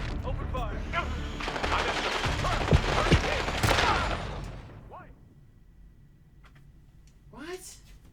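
Sustained bursts of automatic gunfire in Call of Duty Black Ops 6, loud and dense for several seconds, then fading into quieter ambience with a few distant shots, while voices shout over the shooting.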